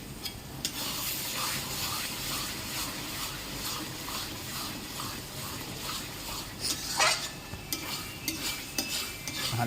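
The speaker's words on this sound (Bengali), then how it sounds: "মশলাটা ভালো করে নেড়ে নিচ্ছে।" Spice masala thinned with hot water is stirred in a hot pan for mutton curry, giving a continuous close sizzle with rhythmic scraping strokes and occasional metallic clinks.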